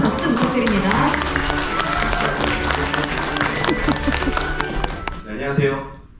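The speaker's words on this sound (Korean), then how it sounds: "큰 박수 부탁드립니다" An audience claps and cheers at a live makeup show as a makeup artist and a counselor come on stage, with music and voices over the applause before it swells briefly and fades near the end.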